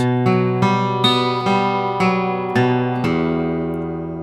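A clean electric guitar plays a short repeating phrase from a song's intro in an uneven, galloping dotted-sixteenth rhythm, ending on a lower sustained note on the open low E.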